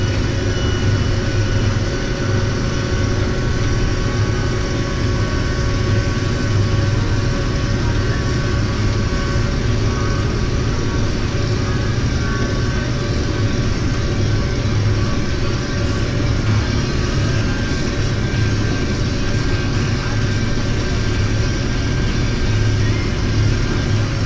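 A combine harvester pulling a grain cart rumbles through the streets of Faribault, a loud, steady low engine drone with constant mechanical hum and no breaks.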